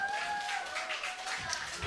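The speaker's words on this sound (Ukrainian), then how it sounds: "Підтримайте її аплодисментами, друзі." At a Ukrainian wedding veil-removal ceremony, guests give the bride soft, diffuse applause that sits low beneath a speaking voice and sustained musical tones.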